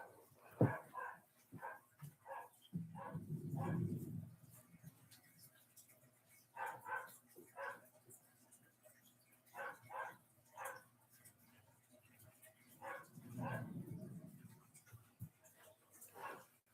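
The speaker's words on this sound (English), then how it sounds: "that's my dog" Repeated dog barks in short bursts, somewhat distant, with a couple of low rumbling noises in between.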